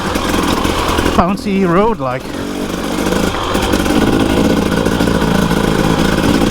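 Motorcycle engine on an off-road green lane ride near Claerwen Dam in the Elan Valley, running steadily and loud close to the rider, with a rider talking over it near the start.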